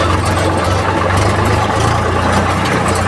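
A tractor engine labors steadily at low revs along a rough, dangerous rural road, its loud continuous drone rumbling unbroken throughout.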